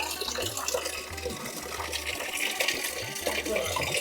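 Water flowing steadily at the source of the Son river in Madhya Pradesh, a continuous broad wash of running water that stays even throughout with no voices.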